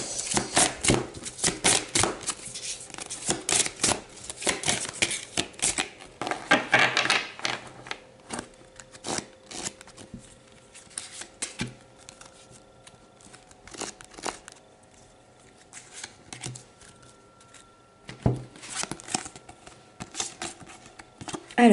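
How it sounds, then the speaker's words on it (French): Tarot cards are shuffled and drawn close by, with papery rustling, quick riffling flicks and soft slaps that come in bursts and then thin out, with no speech. "Allez, deux cartes pour nos amis les béliers."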